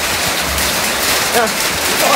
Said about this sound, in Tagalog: Inabot na naman kami ng ulan dito guys